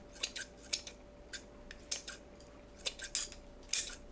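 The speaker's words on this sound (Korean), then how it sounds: "건더기를 가위로 먹기 좋게 잘라주세요." Scissors snip through pieces of salted raw anchovy in a bowl, about eight sharp, close metallic cuts at an uneven pace, crisp and alone against a quiet background.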